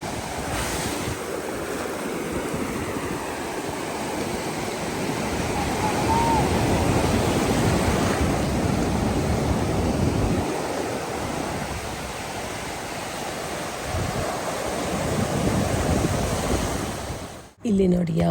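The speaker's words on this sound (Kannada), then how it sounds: "ಇಲ್ಲಿ ನೋಡಿ ಯಾವ ಥರ ತೆರೆ ಬಂದು ಹೊಡ್ಕೊಳ್ತಾ ಇದೆ" Sea waves crashing and washing onto a beach, a continuous loud roar of surf with wind buffeting the microphone throughout, ending in a sudden handling noise.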